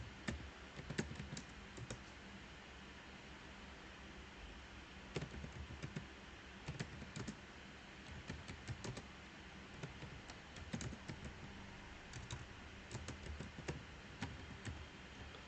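A remark is typed on a computer keyboard into staff records software, with scattered bursts of quiet, close keystroke clicks separated by short pauses.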